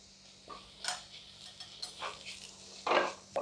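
Garam masala, turmeric and Kashmiri chilli powder stirred in a pan, a few light scrapes and taps of a spoon against the metal, quiet and close, with a faint sizzle between strokes.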